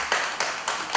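Audience members at a leadership coaching course clap in a few quick rhythmic bursts, close and fairly loud, with no talking over them.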